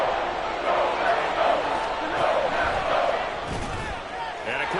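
A football stadium crowd at an NFL game between the Rams and Packers roars continuously near the goal line, a dense, steady wall of cheering and shouting that stays loud for the whole stretch.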